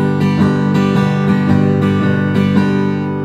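An acoustic guitar strummed in a steady down-up rhythm, chords ringing out evenly and close, with no voices.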